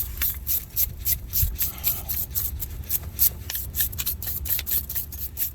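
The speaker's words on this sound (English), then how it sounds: "let's clean up our brake hub first. This little caliper. Get the dirt out of here." A brush scrubs dirt from the brake caliper and hub of a 2012 Chrysler 300 5.7 L Hemi. The scratchy strokes are close and repeated in an uneven rhythm, with no talking.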